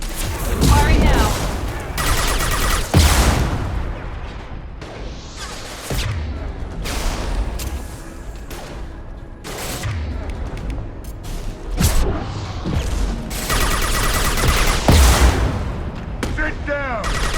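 Heavy gunfire from the Mass Effect 2 video game, loud bursts and rapid volleys with booming impacts that come again and again over about seventeen seconds, with a voice speaking between the shots.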